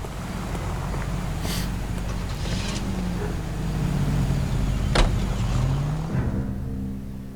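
A car driven in L.A. Noire hums with a steady, close engine drone that rises and falls in pitch as it accelerates and shifts, with a few brief clunks and no talking.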